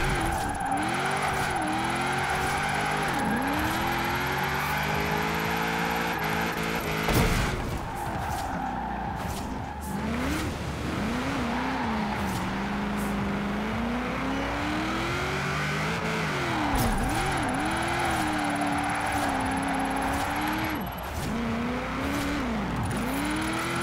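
A car in the Forza Horizon 4 racing game revs and drives through a winter course, engine pitch rising and falling through gear changes with bursts of tire squeal from drifting, loud and continuous.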